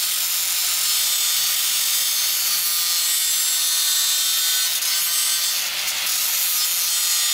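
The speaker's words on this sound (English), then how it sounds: "So, let's pull that out of the way and start cutting." A power tool steadily cuts into the metal rear trailing arm of an RD1 Honda CR-V to clear a rear disc brake caliper, a loud, continuous, harsh hiss that runs unbroken the whole time.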